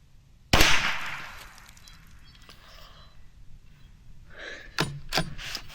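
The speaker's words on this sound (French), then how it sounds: "maintenant, nous allons tirer sur la tranche de la carte à jouer" A single sharp rifle shot fired at the edge of a playing card from 100 m cracks loudly and decays into a rumbling echo, followed later by a few fainter clicks and knocks nearby.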